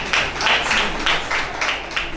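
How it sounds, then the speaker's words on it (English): A workshop audience claps in a steady, roughly rhythmic pattern of loud bursts, close and continuous for a couple of seconds, with no speech over it. "Let's clap for her."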